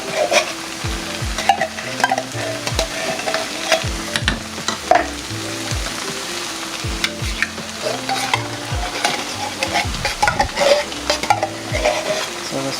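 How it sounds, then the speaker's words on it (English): Fresh onions and celery sauté in butter, sizzling steadily while a spoon scrapes and knocks against the pan in repeated stirring strokes, close and fairly loud, with no talking. "So it's fresh onions and celery sauteed in butter."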